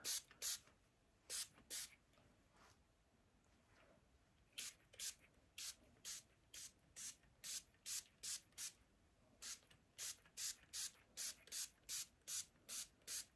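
A spray bottle spritzes warm water onto natural hair repeatedly in quick, short hissing bursts, with a pause midway before a long steady run of sprays, close by.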